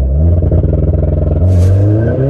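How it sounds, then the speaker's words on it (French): A car launches hard on a racing circuit using launch control, the engine roaring loud and close with a steady pulsing drone that climbs briefly near the end, with no voices. "on va faire un petit launch control."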